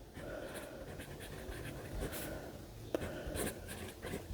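A Diplomat fountain pen with a soft, bouncy nib scratching across paper, a soft continuous rasp with small taps and strokes, close and quiet.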